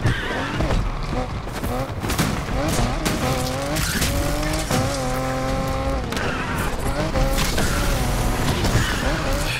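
A fast car in Need for Speed Unbound races with a loud, continuous engine roar, rising and falling gear-shift whines and repeated tire squeals, right up close and dense throughout.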